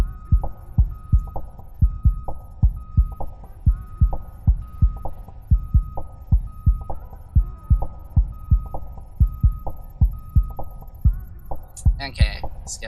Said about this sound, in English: Let's just 3D print that right away while we get the rest of this started.